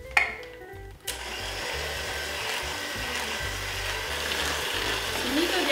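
Eggs are beaten into a pastiera filling with an electric mixer, which gives a steady whirring drone after a brief start. The motor runs continuously and fairly close, with no talk over it.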